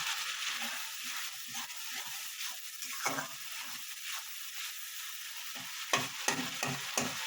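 Three chillies fry in hot oil for a fish-oil and potato dish, a close, steady sizzle broken by repeated scraping stirs that grow sharper toward the end, with no talking.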